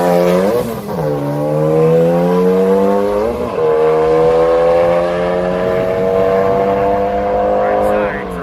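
A drag racing car drives by at a drag strip with a loud, sustained engine drone that dips in pitch twice before holding steady.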